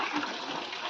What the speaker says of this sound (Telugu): మల్లూరు జలపాతం